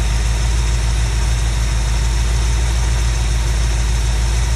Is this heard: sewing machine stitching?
no